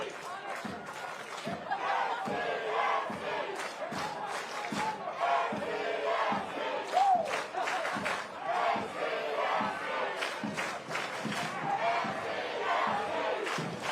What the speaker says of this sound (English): Decent crowd here.